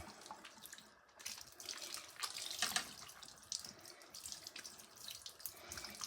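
Tap water running and splashing over skin to rinse off shower lotion, a steady close hiss and patter of water with small surges, no talking.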